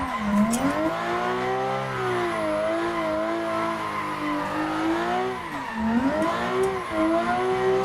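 A BDC V6 car drifting in Assetto Corsa, its engine droning loud and close with pitch swooping up and down through repeated slides, a faint tire squeal riding above, no talking.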